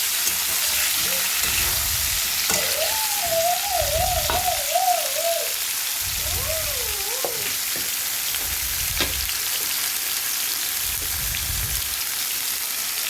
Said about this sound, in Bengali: এবার ওই তেলেই গরম তেলেই ফুলকপি আলু মটরশুঁটিটাকে একটু ভেজে নেব নুন হলুদ দিয়ে